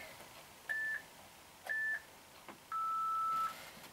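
A workout interval timer sounds two short electronic beeps about a second apart, then one longer sustained beep, clear and close over a quiet background with no talk.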